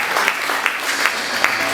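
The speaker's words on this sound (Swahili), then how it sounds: "Pige makofi, makofi" A church congregation at a Sunday service claps in a loose, ongoing patter, with a slight rhythmic pulse under a soft murmur of voices.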